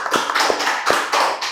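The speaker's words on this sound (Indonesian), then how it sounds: "tepuk tangan dulu dong buat Pak Reza" Small podcast-studio audience clapping for a guest, a short burst of close, sharp hand claps with uneven rhythm, loud and without talk.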